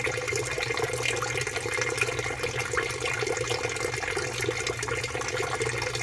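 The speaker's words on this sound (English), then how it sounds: "As the water goes through the system, it gets cleansed and goes back to the pond clean" Water runs steadily through a pond aquaponics system, a continuous close, broadband rush and trickle with a low hum beneath, no voices.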